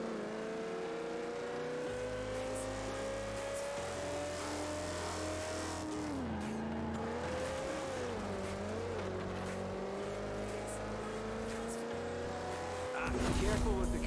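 A Land Rover driven in Forza Horizon 4, its engine humming steadily with shifting revs over a game soundtrack, rising to a louder burst near the end.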